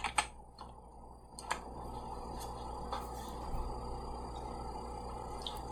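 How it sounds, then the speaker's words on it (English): Keys on a computer keyboard are tapped while a PIN is entered, a few quiet, sparse clicks spaced out over a few seconds against a faint steady background hum. "go ahead and enter the PIN"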